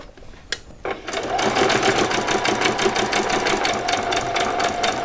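A sewing machine runs steadily as it stitches a quarter-inch seam up to the top edge of Christmas pyjamas. It starts after a brief quiet moment and then whirs loud and close without a break.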